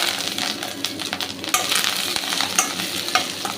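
Mustard seeds, cumin, ginger and curry leaves fry in hot oil with a steady crackling sizzle and scattered sharp pops and spoon scrapes, close and continuous, with no voices.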